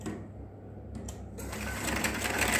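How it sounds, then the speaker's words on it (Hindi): Sewing machine stitching a diagonal seam across a double-folded strip of fabric for a back-neck blouse design, running in a steady whirr that starts softer and grows louder and busier. "तिरछी एक कोने से यहाँ से काफ़ी तिरछी सिलाई लगाई।"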